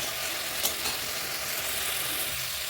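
Potatoes and spices fry with salt in a pan for a Bengali fish curry, a dense, even close sizzle with faint stirring scrapes and no talk.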